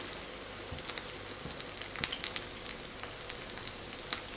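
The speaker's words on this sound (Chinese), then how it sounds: "翻面以后，继续中火慢烙，一定不要开大火，防止表面烙糊，内里馅料熟不透。" Leek pies pan-frying over medium heat on an electric griddle, giving a steady close sizzle with fine scattered crackles and small pops throughout, no voices.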